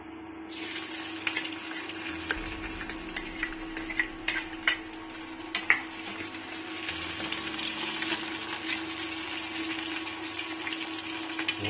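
Onion and chili sizzle in a pan on an induction cooktop, a steady bright crackling hiss that swells as the ingredients hit the oil, with occasional clinks and stirring scrapes.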